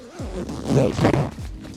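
The zipper on an Arc'teryx Beta Insulated jacket zips up in one quick, close, loud pull lasting under two seconds.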